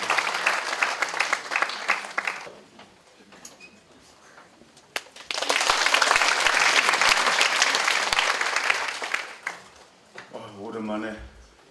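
Audience applause at a Catholic symposium in Korea, two bursts of many hands clapping: a first round fading after a couple of seconds, then a louder, sustained wave, with speech starting near the end.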